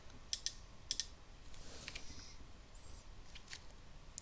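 A few sparse, quiet keystrokes on a computer keyboard, tapped in small clusters with pauses between them, over a faint room hush.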